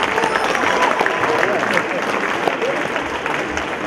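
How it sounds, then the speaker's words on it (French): Audience applause rolls on for a seven-year-old girl modelling at a Rotary Club fashion show, a full, sustained clapping crowd with voices talking over it. "On l'applaudit s'il vous plaît."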